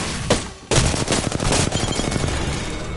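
Loud, rapid automatic gunfire in the video game Apex Legends, a dense rattling burst of shots that breaks out after a brief opening pop and keeps going to the end.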